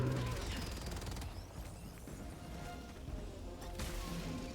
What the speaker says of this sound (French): Vous pouvez laisser faire ma tourelle un petit peu là, s'il vous plaît?